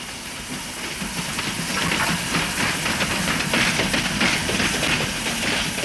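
A RENFE 482-class steam locomotive hisses and chuffs as it rolls into Castejon station in Spain, a broad, rough wash of steam noise growing slightly louder and staying close.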